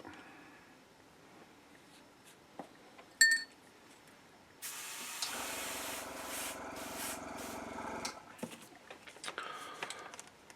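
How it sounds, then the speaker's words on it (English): Airbrush spraying thinned moon yellow acrylic paint, mixed with more than half water, onto an Imperial Fists miniature: a steady close hiss running a few seconds, preceded by small clicks and handling noises. "I'm going to just spray this on gently"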